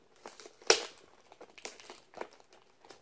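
Plastic bag packaging around a Kotobukiya Joker ArtFX+ 1/10 scale statue is ripped open close by: one sharp crinkling tear followed by several lighter rustles and crackles, no talking.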